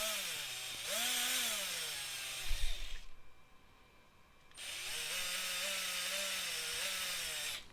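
A power drill bores holes in small plates for a model railway layout's lift-up section, whining in two sustained runs with a short pause and a clunk between them.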